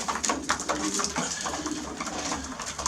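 A flock of racing pigeons in a loft coos continuously nearby, low burbling calls overlapping with faint scratching and fluttering in the background.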